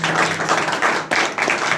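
Audience at a youth church meeting clapping in praise of the Lord, a dense, fairly loud burst of applause that briefly dips near the middle and then resumes.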